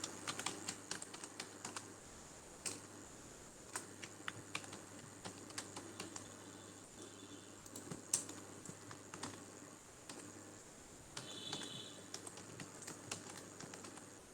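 Steady typing on a computer keyboard while an online deed form is filled in, with quiet, irregular clusters of key clicks over a low background hum.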